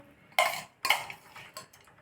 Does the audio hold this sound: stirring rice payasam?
yes